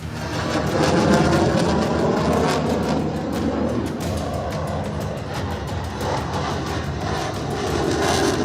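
Fighter jets roar overhead above the desert during the Tarang Shakti air exercise, a loud, sustained rumbling wash of engine noise that swells and holds without break.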